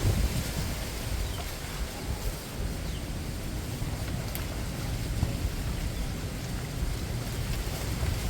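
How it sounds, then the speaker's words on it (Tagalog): Steady, loud wind buffets the microphone with a constant low roar and rustle, continuing unbroken throughout with no voices. "Lakas po ng hangin."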